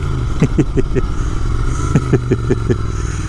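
A Royal Enfield Interceptor 650 Mk 2 motorcycle engine runs steadily nearby, a smooth low drone with a few rhythmic clattering pulses, no talking.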